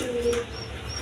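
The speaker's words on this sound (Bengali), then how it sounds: "দেখেন দেখার মতো কবুতর।" Pigeons at a bird sale give a brief low coo, close and soft against a faint background hum.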